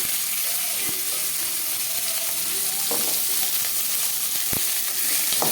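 Onions frying in oil with curry leaves in a pan for drumstick sambar, giving a loud, dense, continuous sizzle with a few sharp clicks of a spoon, close up and without talk.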